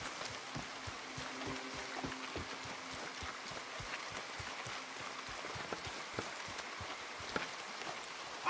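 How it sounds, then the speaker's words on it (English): Steady rain falling in Red Dead Redemption 2, a soft continuous wash with scattered droplet ticks and faint hoof-like clops, moderately quiet throughout. "Come on, look, it's raining."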